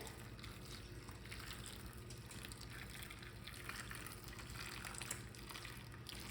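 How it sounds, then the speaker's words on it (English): Hot water poured into a baking dish of apple cobbler makes a steady, even rush of liquid that runs continuously without pause, moderately loud and close. "So now I'm just gonna pour this hot water in here."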